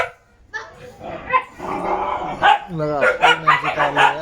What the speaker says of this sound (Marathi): कुत्री बघा. शिकारी शिकारी कुत्री